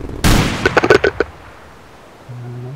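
A rocket explodes in the video game Rust: a loud broadband blast, then a short ragged series of popping bursts that fades into quiet. A low tonal drone enters near the end.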